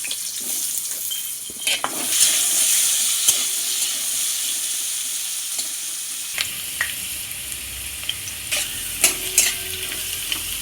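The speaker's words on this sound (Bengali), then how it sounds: "তেলে এবার আলুগুলোও ভেজে নেব।" Potatoes frying in hot oil for a pointed gourd and fish chorchori, giving a steady sizzling hiss throughout with occasional sharper crackles and stirring clatters, close and fairly loud, no talking.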